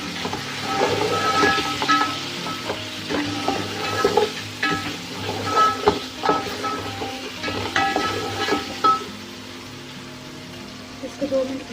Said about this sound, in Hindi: इसको 2 मिनट के लिए भूनने दें।